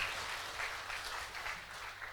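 Audience applause for the participants at a GP Ansor leadership event, heard as a fairly faint, steady patter of clapping hands lasting a couple of seconds.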